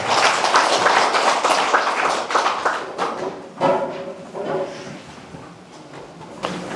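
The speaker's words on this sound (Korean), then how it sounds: "큰 박수로 맞아주십시오." An audience at a Confucian college lecture welcomes a professor with clapping, dense and loud at first and then thinning into scattered, fading claps.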